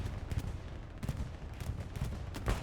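Artillery shells landing on an airhead in a World War II shooter on the Hurtgen map, a dense run of rumbling booms and crackling impacts at moderate distance, fairly continuous.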